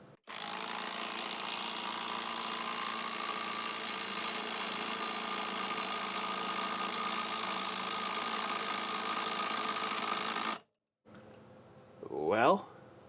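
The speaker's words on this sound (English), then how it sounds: "some of the impact drivers, you hear them impacting as soon as you put the socket on and hit the trigger" A Hyper Tough 20-volt brushless impact driver with a socket fitted runs loud and continuous for about ten seconds with a steady whining drone, then stops, followed by a brief rising whir.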